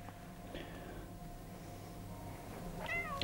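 Two faint meows from a cat in the video game Stray, one short and one slightly longer near the end, over a low steady background hum.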